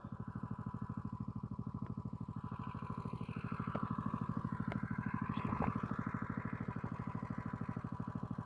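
A fire pump engine idles steadily nearby with a fast, even pulsing beat and some light clatter, holding a constant level throughout.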